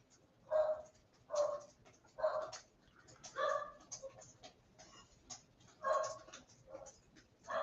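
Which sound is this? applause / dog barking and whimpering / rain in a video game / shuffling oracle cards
dog barking and whimpering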